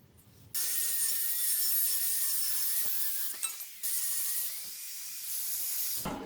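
A homemade chop saw built from an angle grinder mounted on a table cuts through a galvanised metal arm, a loud steady whine with a hissing grind running for about five seconds before stopping abruptly.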